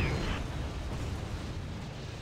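Missile explosions in the real-time strategy game Act of War: Direct Action, a sharp burst at the start that trails into a dense, rumbling roar lasting a couple of seconds, with no talk over it.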